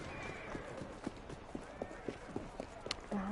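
Horse hooves clatter in rhythmic, evenly spaced clops on a city street in Assassin's Creed Syndicate, moderately close, with a brief whinny-like tone and game ambience around them.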